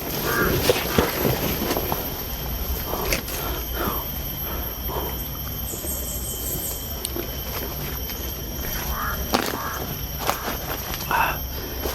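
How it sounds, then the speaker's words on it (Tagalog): Crows caw repeatedly at irregular intervals, some near and some farther off, over rustling and scattered pattering noises. "Yung uwak talaga. Sobrang ingay."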